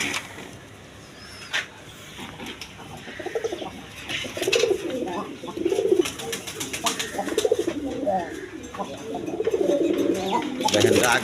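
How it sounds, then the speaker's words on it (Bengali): Pigeons at a pigeon farm coo in soft, repeated throaty rolls, close by and fairly steady, with some background clatter and noise between the calls. "দেখেন ডাক, দেখেন কবুতরের ডাক দেখেন।"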